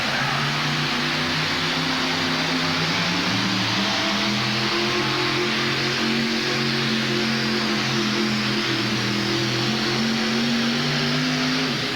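Truck-pulling engine at a 1988 Denver truck and tractor pull roars loud and sustained for the whole stretch, its pitch rising and falling slightly as it strains under load.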